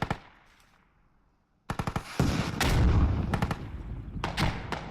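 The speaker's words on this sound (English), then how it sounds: "They're making use of those frag rockets, I can tell you that right now, though." Frag rockets fire in a competitive match of a first-person shooter, a burst of loud explosive blasts and rapid bangs that break into near silence and then continue in dense volleys.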